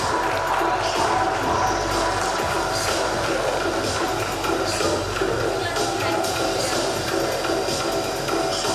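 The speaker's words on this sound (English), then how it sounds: "audience, please give her a loud round of applause" At a women's awards ceremony, an audience applauds steadily and loudly as a woman is honoured on stage, a dense, continuous wash of clapping that lasts throughout with no break.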